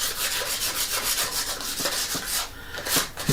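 A wooden mahl stick is rubbed down by hand with red sandpaper, giving steady, close, scratchy back-and-forth strokes with no talking.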